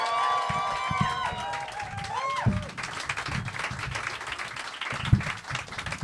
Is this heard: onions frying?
no